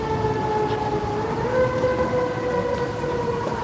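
A fire truck or ambulance siren holds steady, multi-toned wails over a rumbling street background, loud and continuous throughout the short stretch, with no talk.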